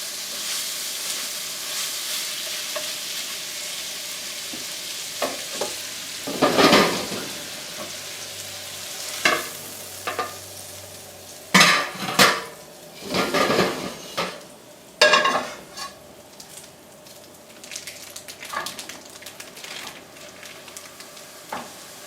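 Sausage frying in a pan for chili, a continuous soft sizzle broken by repeated scraping and clanking stirs of a utensil against the pan, close and fairly loud.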